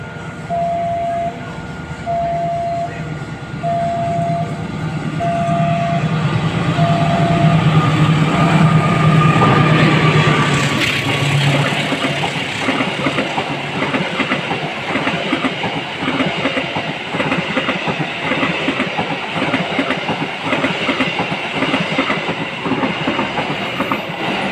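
The Argo Bromo Anggrek passenger train passes close and loud, a repeated warning tone and horn sounding first, then a rising rumble and rapid clickety-clack of wheels over rail joints that continues steadily.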